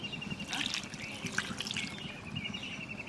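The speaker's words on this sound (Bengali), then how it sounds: "এবার আদা রসুনের জলটা দিয়ে দেবো।" Ginger-garlic water poured into a pan while cooking chicken biryani, a faint, steady trickle and splash of liquid lasting a few seconds, heard alone without talking.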